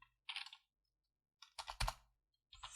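Short bursts of keyboard typing, a few quick clustered keystrokes separated by pauses, fairly close and quiet.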